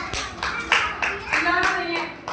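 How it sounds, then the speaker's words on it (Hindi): Schoolchildren in a classroom clap in several short bursts of applause, loud and close, with a few voices mixed in. "इसके लिए आप एक ताली बजाइए।"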